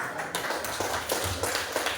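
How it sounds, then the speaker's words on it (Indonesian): A school class clapping hands together, a quick irregular patter of claps at close range, lively and continuous for a couple of seconds. "Oke, beri tepuk tangan yuk."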